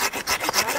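A hand saw cuts back and forth through a pear tree branch during orchard pruning, rapid rasping strokes close up and steady, with no talk over it.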